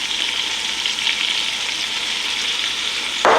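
Seasoned beef for Texas chili sizzles and crackles in a hot pan, a steady loud frying hiss, then a brief stir or scrape near the end, with no talk.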